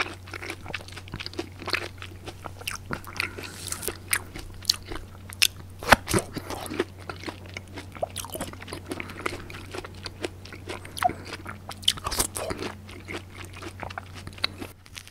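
Tangerine being bitten and chewed up close, with repeated juicy crunches and wet mastication clicks in an irregular rhythm over a steady low hum, no talking.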